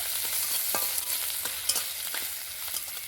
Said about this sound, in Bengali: সব কিছু আবারও ভালো করে একটু নেড়ে চেড়ে ভাজা ভাজা করে নেব।